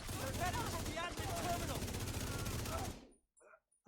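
Electric-round fire from a St. Elmo's Engine assault rifle in The Division 2, a dense, loud burst of rapid automatic shots with game sounds layered over it, running steadily for about three seconds before cutting off to near silence.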